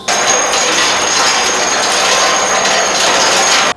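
A Festool CSC SYS 50 cordless table saw cuts thin 1.2 mm stainless steel at slow speed, making a loud, steady, harsh grinding with a high thin whine that holds unbroken for several seconds and then stops.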